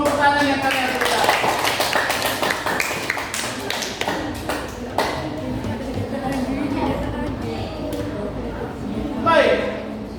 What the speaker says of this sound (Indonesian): kita tepuk tangan untuk semua pertanyaan yang kalian berikan